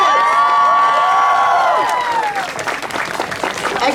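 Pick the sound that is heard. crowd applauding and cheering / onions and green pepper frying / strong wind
crowd applauding and cheering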